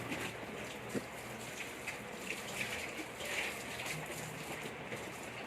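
Bathwater splashing and running continuously as a child is washed, a steady close wash of water with small bumps throughout.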